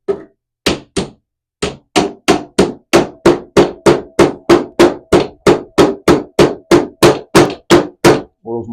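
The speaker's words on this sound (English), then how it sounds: "I beat that nail into position with the world's most adorable hammer" A tiny hammer drives a nail into a cracked mid-century modern wooden drawer guide, landing about seventeen sharp, loud, evenly spaced knocks close by after a short pause following the first few taps.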